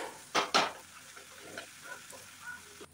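Masala for a spicy egg curry being stirred in a pan, with two sharp utensil scrapes near the start followed by a soft, low sizzle and faint intermittent stirring.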